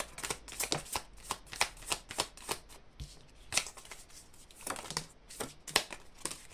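Tarot cards shuffled by hand in a series of quick, crisp riffling bursts with short pauses between, close and fairly quiet, with no voices.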